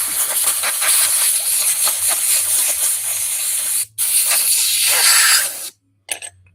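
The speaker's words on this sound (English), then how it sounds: "We're going to do the old air compressor trick." An air compressor nozzle blows a loud, steady hiss of air for several seconds under a low hum, with a brief break, then cuts off and gives a short final burst.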